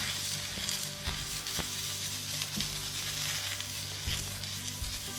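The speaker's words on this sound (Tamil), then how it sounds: "ஈரத்துணி வச்சு எல்லாம் ஈவனாக ஸ்ப்ரெட் ஆகிற மாதிரி நல்லா இப்படி தொடச்சி எடுத்துடலாம்" Steady sizzling hiss from a hot cast-iron dosa griddle as a wet cloth is wiped over it, with a few sharper bursts of steam where the cloth presses down, close and continuous throughout.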